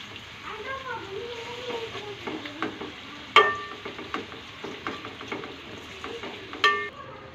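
A spoon gently moves fish curry around a pan on the stove, giving soft intermittent scrapes and stirring knocks with a couple of sharper clinks, under a steady low simmer.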